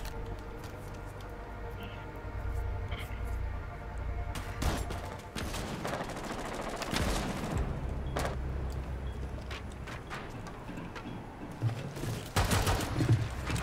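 Gunfire in the Rainbow Six Siege video game, with bursts of shots scattered across the clip, some as rapid volleys and some as single loud blasts, set against background game noise.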